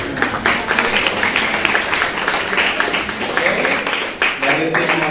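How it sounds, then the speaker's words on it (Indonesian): An audience at an Indonesian group event claps in a steady, dense burst of applause lasting several seconds, with voices mixed into the crowd noise. "Kasih aplaus."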